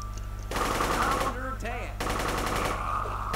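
Automatic rifle gunfire in the UFO video game, rapid bursts of loud machine-gun fire in quick succession, close and dominant, with short gaps between volleys.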